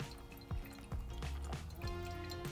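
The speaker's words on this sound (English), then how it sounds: "Now let's go in for that second pour." Water poured over coffee grounds in a Bee House dripper for a second pour, a close liquid trickle and splash with a few brief drips and knocks along the way.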